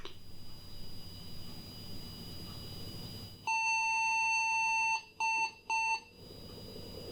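An IBM 5150 PC's internal speaker gives a long electronic beep followed by two short beeps, sharp and tonal over a faint background hum.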